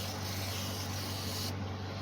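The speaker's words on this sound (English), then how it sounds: "Just spraying carb cleaner in there gently and sparingly" Gentle, sparing spray of carb cleaner into the carburetor of a Bolens QT17 garden tractor, a steady close hiss lasting about two seconds, with a low hum underneath.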